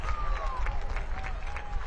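A football stadium crowd roars and claps after a header at a Spokane Velocity FC versus Fort Wayne FC match, a steady dense wash of cheering under a commentator's voice.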